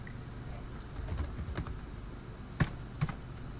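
A password is typed on a computer keyboard, with soft irregular key taps followed by two sharper, louder clicks near the end, over a faint background hum and without talk.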